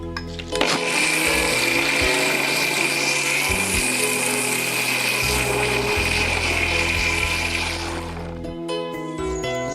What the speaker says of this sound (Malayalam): ഞാൻ ഈ മിക്സിയുടെ വലിയ ബൗളിൽ ചേർത്ത് ഒന്നുകൂടി അരച്ചെടുക്കുന്നത്